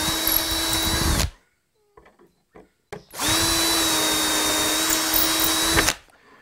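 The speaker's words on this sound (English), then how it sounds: "Comes with a 6-inch aircraft drill. Drill the 2 holes." A power drill whines steadily in two separate bursts, each about a second to three seconds long, drilling holes in a wooden door, with a short quiet gap and faint clicks between.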